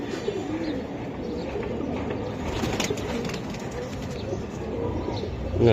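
A purple-necked Giribaz pigeon coos softly close by, its low repeated calls mixed with other birds and some faint background voices.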